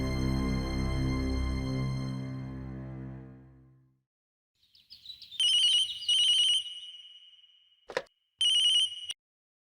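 An incoming-call phone ringtone chirps in repeated short electronic bursts with brief gaps, following a fading low musical tone, with no voices.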